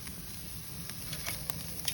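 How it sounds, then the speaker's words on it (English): Carne asada sizzles on a hot Kamado grill, a soft continuous crackling hiss with occasional sharper pops, fairly quiet and steady. "Nice sizzle."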